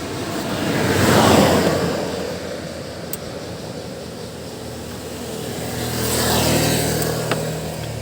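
A motorized tricycle engine passes by, swelling loud then fading, followed by a second vehicle approaching with a rising engine drone, set against a steady street hum and no speech.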